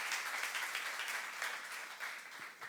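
A church youth congregation claps during a sermon, a fairly quiet but dense wash of many hands that stays steady with slight swells and tapers off at the end.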